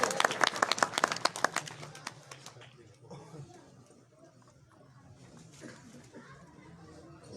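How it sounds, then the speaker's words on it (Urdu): Applause from an audience at a Kashmir Day poetry gathering (mushaira) in Noor Pur Thal, a dense burst of clapping in the opening seconds that thins out and fades into quieter room murmur. "ایک دفعہ تالیاں جی"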